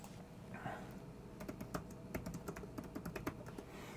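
Typing on a computer keyboard, a quick irregular run of crisp clicks and taps at close range, fairly quiet, with no voice over it.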